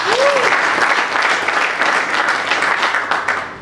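Voters at an election meeting at Centre Nganda in Kintambo burst into sustained applause from a large crowd, dense and loud throughout, with a brief whistle near the start.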